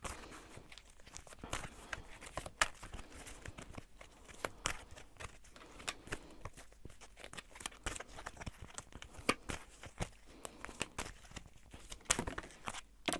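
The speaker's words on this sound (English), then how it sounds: "I'm gonna shuffle one more card" Tarot cards are shuffled by hand in a quiet room, an irregular run of soft papery riffles, slaps and crinkles with short pauses between bursts, close and faint.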